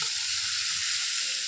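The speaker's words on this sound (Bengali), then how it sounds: "পেঁয়াজটা আমি বাদামি বাদামি করে ভেজে নেব।" Onions fry in hot oil for an egg curry, giving a steady, close, bright sizzle that continues without a break and with no talking.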